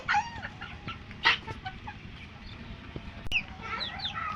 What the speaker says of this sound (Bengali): দেখেন কীভাবে মুরগির বাচ্চা চাল খাইতেছে